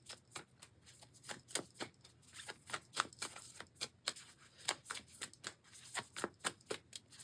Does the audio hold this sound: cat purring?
no